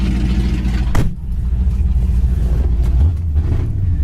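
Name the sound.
car engine revving with straight-pipe exhaust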